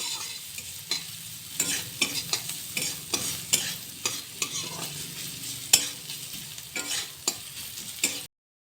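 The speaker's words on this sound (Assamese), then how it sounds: "গাজৰখিনি ধুনীয়াকৈ অকমান লো ফ্লেমত দি এইখিনি অকমান ভাজি লওঁ" Carrots sizzle steadily over low flame in a pan with oil, salt and turmeric while a utensil stirs and scrapes them in repeated strokes, close up, with no talking.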